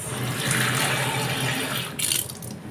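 Half a cup of water pours steadily into all-purpose flour and salt for homemade lumpia wrappers, a close, continuous splashing rush with a brief surge near the end and no voices.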